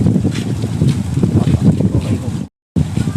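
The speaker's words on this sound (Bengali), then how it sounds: "আর অনেক বাতাস" Strong wind buffets the microphone on a road running between two bodies of water, producing loud, gusty rumbling that surges and eases, then cuts out briefly before resuming.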